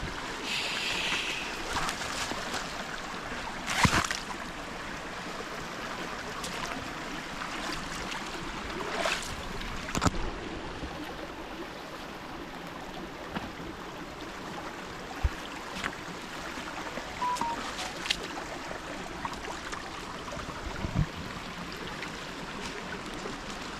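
Water in a creek flows steadily as people wade across it, a continuous broad rush with occasional splashes and knocks, close by and fairly even in level throughout.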